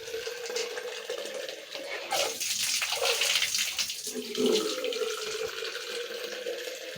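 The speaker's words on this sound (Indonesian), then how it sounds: "Bilas lagi." Running tap water rinsing a bathroom sink while cleaning, a steady close splashing hiss that swells and shifts as the flow hits the basin, with no talking.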